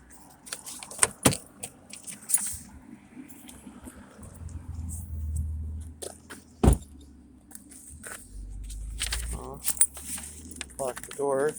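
Keys jangle in several brief bursts as a car door is locked just after parking, with someone talking and the low rumble of passing road traffic in between.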